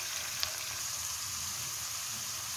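Bottle gourd and chicken kofta fry in a pan, a steady, even sizzle that runs unbroken throughout with no voices, moderately quiet and close.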